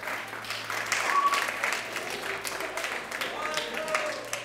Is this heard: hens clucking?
no